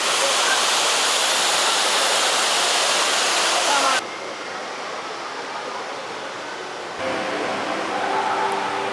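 Loud, steady rush of an indoor waterfall, billed as the world's tallest, at Gardens by the Bay, Singapore, dropping briefly in level before swelling again, with faint voices underneath.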